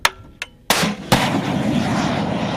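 An FGM-148 Javelin anti-tank missile launches with a sharp initial pop, then a loud, sustained roaring blast that cuts in and keeps rushing on, with a second crack partway through.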